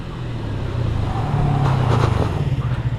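A 2019 Yamaha FZS V3 motorcycle with single-channel ABS and a 282 mm front disc brakes hard on a road, its engine note steady and then dropping away as it slows, fairly close and with no talk.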